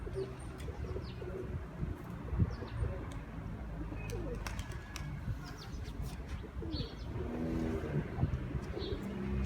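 Ankara tumbler pigeon squabs coo softly in a loft, low murmuring coos repeating throughout over steady background noise, with a few faint chirps higher up.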